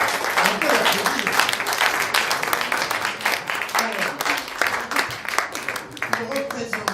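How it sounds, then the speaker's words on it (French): Audience applause at a wine auction of bottles from Pasteur's vineyard, with dense clapping running throughout, loud and steady over a murmur of voices. "On peut l'applaudir."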